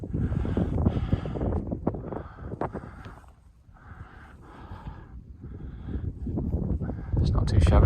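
Wind gusts across the microphone at an exposed winter mountain camp by a tarn, rumbling and buffeting in uneven surges, easing briefly midway before strengthening again, with a voice speaking at times.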